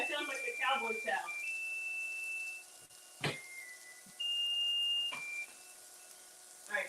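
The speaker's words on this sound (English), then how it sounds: "All right, so we'll turn off the timer" Kitchen oven timer sounding while cornbread bakes: a series of sustained electronic beeps of uneven length, close and clear, following a stretch of talking at the start.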